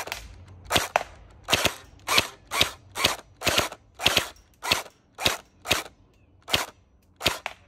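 A gel blaster fires gel balls at a target in a quick run of about a dozen sharp, loud snapping shots, spaced roughly half a second apart with brief quiet gaps between them.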